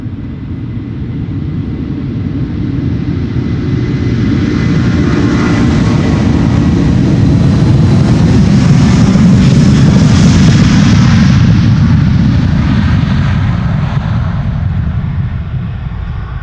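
A Delta Air Lines Airbus A330-300 jet bound for Atlanta passes at Schiphol Airport, its loud engine roar swelling to a peak near the middle, then easing away, alone without talk.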